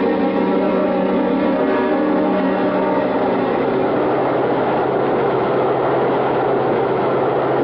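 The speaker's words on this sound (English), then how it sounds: "Come on, we're at the subway." A subway train sound effect from a radio drama plays as a constant, dense mechanical rumble, steady and unbroken, with no one speaking.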